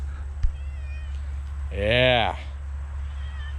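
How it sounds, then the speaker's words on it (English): A pet cat walking up near a truck lets out a single clear, drawn-out meow of about half a second over a steady low engine-like hum, with a brief spoken word just before it. "There's my cat walking up."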